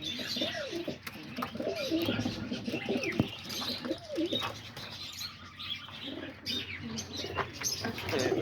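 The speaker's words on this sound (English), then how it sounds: "There's all the pigeons right there." Pigeons cooing close by, repeated soft throaty rolling calls overlapping one another, with light chirps and a flutter of wings in the background.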